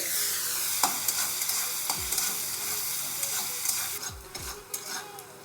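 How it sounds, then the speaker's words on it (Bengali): Chopped onion frying in a pan for a Bengali rohu fish curry with bitter gourd, a loud continuous sizzle broken by a few clinks and scrapes of a spatula stirring, no voices. "পেঁয়াজটা একটু ভেজে নেব"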